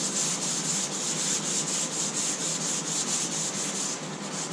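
A sanding block scrubs steadily across Bondo body filler dusted with black guide coat on a car body repair, giving a loud, even, rhythmic rasping of back-and-forth strokes with no talk.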